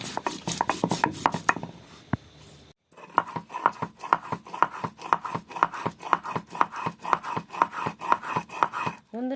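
Mustard seeds and green chillies ground by hand on a grinding stone, a steady rhythmic scraping of stone on stone in regular back-and-forth strokes, close and clear, with a brief pause partway through.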